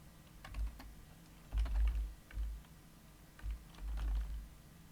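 A computer keyboard being typed on quietly, with soft irregular keystrokes clustered in short bursts along with low thumps, all at a low level in a quiet room.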